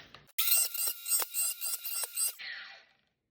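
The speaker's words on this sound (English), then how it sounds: "So I'll get the grinder and get to work. See, first, cut these ears off real quick." An angle grinder slices the ears off a metal oil bath air cleaner top, giving a loud, harsh rasping cut in several short bursts over about two seconds, then a softer trailing whir as it winds down.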